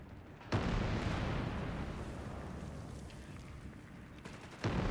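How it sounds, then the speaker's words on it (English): Anti-tank gun in Company of Heroes 3 firing amid a battle, with a sharp shot opening a dense, sustained rumble of gunfire and explosions at moderate distance, and another sharp crack near the end. "AT gun there shooting at the NGs, but he's obviously not doing that well."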